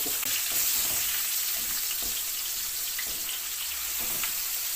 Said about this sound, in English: I'll keep stirring it so the onions are like caramelised and the tomatoes